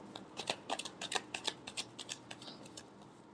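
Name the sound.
shuffling tarot cards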